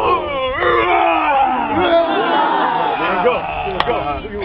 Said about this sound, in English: And scream to me.